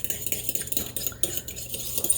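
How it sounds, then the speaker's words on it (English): An egg yolk stirred in a bowl for waffle batter, a utensil clinking and scraping against the sides in quick, close, repeated strokes with no talking. "I'm going to go ahead and just stir this egg yolk."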